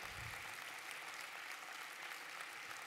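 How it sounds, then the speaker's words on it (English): An audience at a chamber of commerce inaugural event gives a business gathering's steady, faint applause, an even wash of many hands clapping from a distance without a break. "I appreciate the applause."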